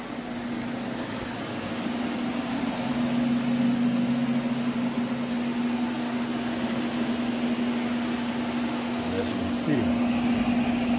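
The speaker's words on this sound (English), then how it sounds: "Got the fans blowing on the carpet." Fans blowing over a freshly cleaned carpet, a loud continuous hum with a steady tonal drone and broadband airflow noise throughout, with no speech.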